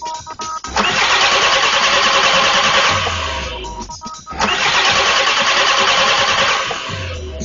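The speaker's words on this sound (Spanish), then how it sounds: "accionamos el arranque" A car engine turns over on its starter during a fuel pump test, two long loud cranking bursts with a brief pause between, steady whirring without catching.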